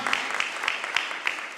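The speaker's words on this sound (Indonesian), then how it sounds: "Tepuk tangan yang meriah untuk Tuhan." A church congregation claps together during a Sunday worship service, a steady dense wash of hands with a few louder accents, filling the room at moderate volume without talk.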